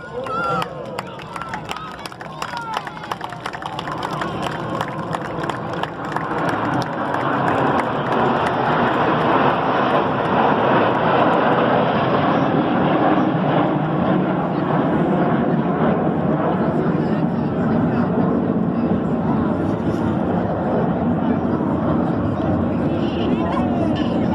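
Red Arrows jets in display formation roar overhead at an air show, a loud continuous engine rush that swells and holds, with a commentator talking over it and crowd noise behind.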